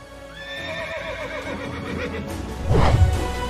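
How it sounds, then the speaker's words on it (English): A horse neighs loudly then clops off at speed, a close whinny followed by rising hoofbeats and rumble as it races away. "he lifts Sanyogita onto his horse and races away"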